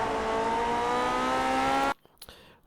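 Lotus 49 race car in iRacing at Suzuka, a loud sustained engine note for about two seconds that cuts off abruptly, followed by a few faint, brief clicks and scrapes.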